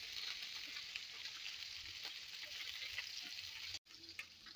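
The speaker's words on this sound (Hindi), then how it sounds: "अब हम इसमें भिंडी को फ्राई करेंगे" Stuffed okra (bhindi) shallow-fries in oil with a soft, steady hiss and crackle, heard close but quiet and broken by a brief gap near the end.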